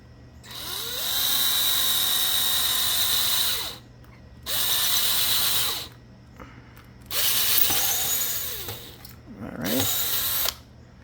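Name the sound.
drilling a hole in wooden furniture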